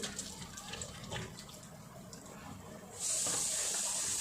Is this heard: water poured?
yes